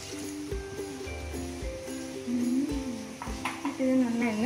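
Raw chicken pieces are stirred with added water in a bowl before pressure cooking, heard as close scraping and knocking of a utensil against the bowl with wet sloshing, and a soft voice murmuring in the background.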